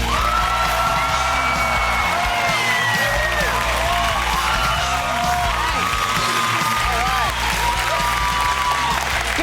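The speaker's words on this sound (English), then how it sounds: "Good crowd." A studio audience cheers, whoops and applauds loudly for comedian David Spade, a continuous dense wash of clapping and yelling that fills the whole stretch.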